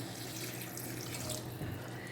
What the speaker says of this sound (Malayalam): ഇനി വെള്ളം ചേർത്ത് കൊടുക്കാം